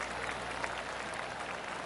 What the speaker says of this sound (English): enjoy that rapturous applause from the huge gallery